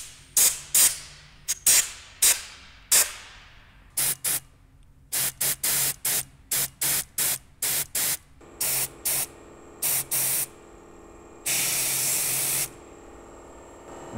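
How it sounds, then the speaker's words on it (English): Short bursts of penetrating fluid spray into a metal fitting on an abandoned airplane, about two dozen quick hissing squirts in an uneven rhythm, ending with one longer sustained spray, close and clear with no talking. "Of course, you got to put some penetrating fluid down in there."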